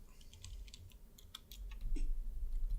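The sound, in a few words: typing on a phone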